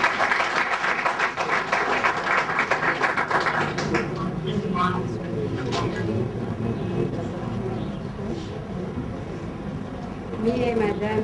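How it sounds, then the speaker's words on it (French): Wedding guests applaud during a ceremony, with dense clapping loudest at the start, then fading under voices and speech for the rest. "Applaudissons."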